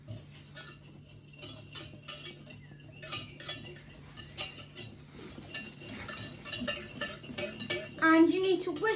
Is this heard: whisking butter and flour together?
yes